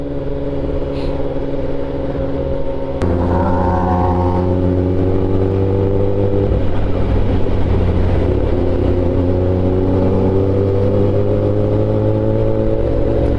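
A Yamaha R6 sport motorcycle's engine hums steadily nearby, then its revs climb in a smooth rising drone as it pulls away, staying loud and continuous throughout.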